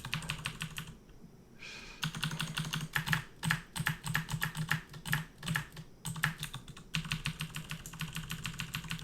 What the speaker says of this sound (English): Mr. Fast Typing Loud Keyboard Show Off.